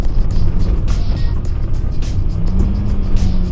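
A car in rough terrain in Iceland performing a K-turn, a steady close engine rumble with gravel crunching under the tires and no talk.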